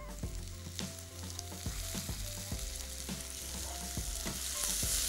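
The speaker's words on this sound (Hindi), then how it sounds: "तो इसके अंदर 1 टेबल स्पून अदरक और लहसुन का पेस्ट" Onion frying in a pan with a tablespoon of ginger-garlic paste stirred in: a steady close sizzle with repeated scraping strokes of a spoon, no talking.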